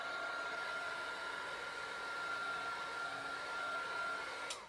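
A handheld blower gives a quick blast to dry alcohol ink artwork, a steady close whooshing roar with a faint whine that holds level throughout before cutting off abruptly at the end.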